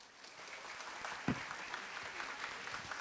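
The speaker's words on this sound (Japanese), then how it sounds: "皆様拍手でお迎えくださいませ" Audience applause greets a guest walking onstage at a short-film talk event, a steady wash of clapping from a full room with one sharp louder clap standing out partway through.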